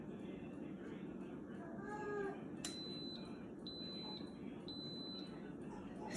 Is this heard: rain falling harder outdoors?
no